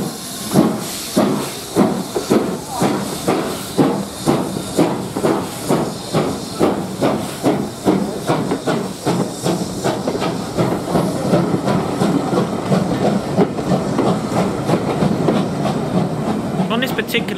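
Britannia Pacific steam locomotive 70013 Oliver Cromwell pulls away at the Great Central Railway, its heavy exhaust chuffs close and loud, starting slow and evenly spaced, then quickening into a rapid beat over steady steam hiss.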